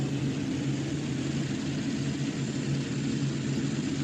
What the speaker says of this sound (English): Beautiful looking tractor here.